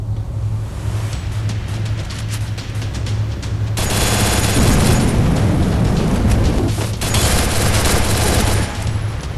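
M249 machine gun fire in the mobile shooter Free Fire: loud, continuous automatic bursts that swell into a dense, booming barrage through the middle, with no talking.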